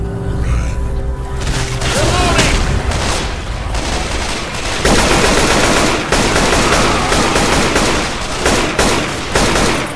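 Rifle fire in Left 4 Dead 2 on expert difficulty during The Parish campaign, rapid loud bursts of shots in close succession, with short pauses between volleys and a sharp crack at each round.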